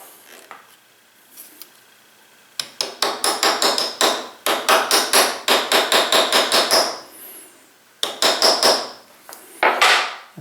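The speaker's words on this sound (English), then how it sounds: "I'm just going to take a 1/4-inch transfer punch and grab a hammer here." A hammer strikes a 1/4-inch metal transfer punch in a fast series of sharp, ringing light taps, several bursts of repeated blows separated by short pauses.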